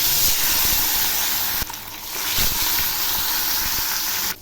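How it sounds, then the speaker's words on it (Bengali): Pieces of katla fish land in hot, lightly salted oil in a wok and give off a loud, dense, continuous hiss that dips slightly for a moment, then carries on until it cuts off at the end. "তেল গরম হয়েছে, এবার আমি মাছটা ছেড়ে দিচ্ছি।"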